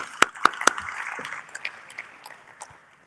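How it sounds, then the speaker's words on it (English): Scattered applause at a meeting on disaster management, opening with three sharp, distinct claps and trailing off into sparse, quieter clapping that fades away. "Another round of applause to her, please."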